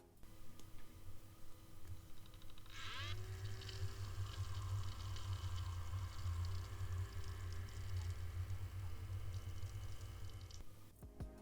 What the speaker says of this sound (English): we start with the pump noise, which is powered on from a direct power source and thus runs at its maximum speed of